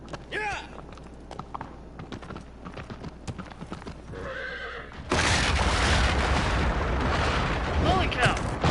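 Horse from the video game Shadow of the Colossus gallops with rhythmic clip-clop hoofbeats and whinnies, then a loud, dense rumble of game action and music takes over partway through while a voice speaks in the background.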